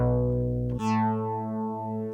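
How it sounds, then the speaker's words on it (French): Synthesizer tone put through a small phaser effect: a steady held chord whose timbre shifts suddenly into a sweeping, swirling bright sound that glides downward and sustains, loud and alone. "Je vais prendre un petit phaser"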